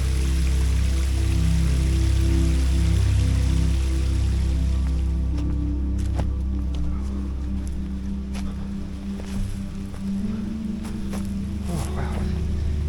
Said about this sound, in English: First waterfall of the day.